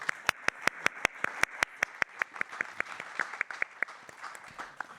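An audience applauds after a talk on diabetes: a small group's scattered claps, sharp and distinct at first, then thinning and fading over a few seconds.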